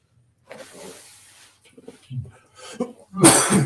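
A single sharp sneeze bursts out loudly at the end of a council meeting, after a few seconds of quieter talk and shuffling in the room.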